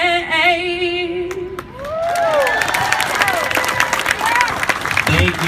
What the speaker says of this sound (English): One more big round of applause for Sergeant Hudson for our national anthem